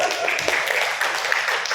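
Seminar audience at a national seminar on Jambi customary history applauding, a dense, steady patter of many hands clapping at moderate volume, with faint voices mixed in underneath.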